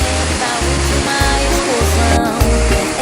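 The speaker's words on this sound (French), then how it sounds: "la cascade, elle est trop cool" A waterfall on Ilhabela, Brazil, rushes in a steady broadband roar, loud and close, with pulsing low thumps throughout the short stretch.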